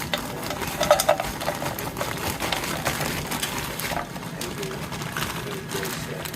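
Stir-fry ingredients and fries tossed into a hot pan, giving a continuous loud hiss and rustle with a few clatters near the start, steady throughout.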